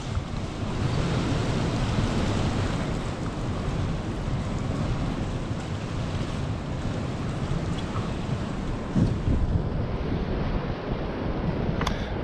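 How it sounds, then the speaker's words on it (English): Strong wind gusts against a barn door on a farm hit by coastal flooding, making a steady, loud, rushing roar with a few louder bumps near the end and no talk. "the wind has been blowing against the door like that"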